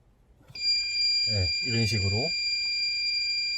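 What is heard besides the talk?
circuit tester beeping on wire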